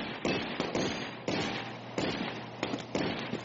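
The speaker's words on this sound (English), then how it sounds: "I'm gonna throw a grenade as soon as you open it." Repeated sharp blasts in a tactical shooter game, a string of loud bangs at irregular intervals, each with a quick decay, close and dominant with no talking.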